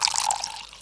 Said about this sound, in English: shall we get them to pour them glasses out?